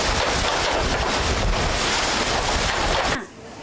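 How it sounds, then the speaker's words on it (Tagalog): Loud, roaring typhoon gusts in Cagayan batter the microphone with a dense wash of heavy rain and wind, cutting off abruptly at the end. "Sa lakas ng hangin at ulan, may mga yero na halos matuklap na"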